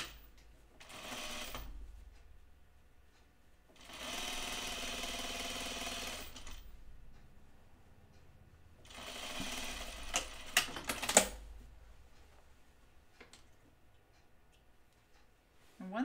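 A sewing machine stitches a Bleuet dress seam just under the 5/8 inch allowance, running in three distinct bursts of steady mechanical whirring separated by pauses, with a few small clicks near the end.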